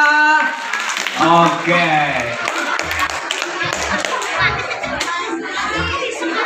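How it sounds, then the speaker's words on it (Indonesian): Children and adults clap for a child performing at a church children's show, brisk scattered clapping mixed with lively kids' chatter and voices throughout. "Tepuk tangan buat jerapah."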